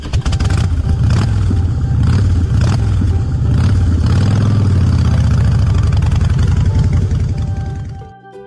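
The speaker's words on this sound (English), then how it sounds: "Motorcycle." A motorcycle engine runs loud and close at a steady idle with a throbbing low rumble, continuing for several seconds before cutting off abruptly.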